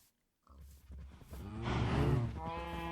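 Cows mooing in the Minecraft video game, a few drawn-out low calls rising in loudness after a brief silence, with no talk over them.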